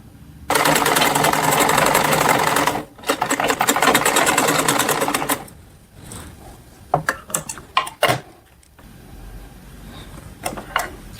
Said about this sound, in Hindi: इस पट्टी को मैं इस पे इस तरीके से सिल दूंगी